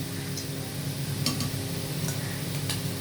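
Fresh pond-caught puti fish fry in a pan with a steady, dense sizzle, plus a few faint clinks of utensils scattered through.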